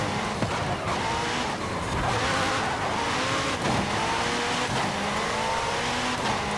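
A McLaren race car in Forza Horizon 5 roars continuously at close range, its engine revving steadily while tires squeal and skid through corners, with no voices over the sound.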